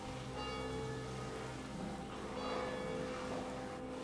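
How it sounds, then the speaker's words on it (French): Church bells ringing in a small Italian mountain town, a distant, faint tolling under steady ambient hiss, with soft tones swelling and fading a few times. "Les cloches de l'église commencent à sonner"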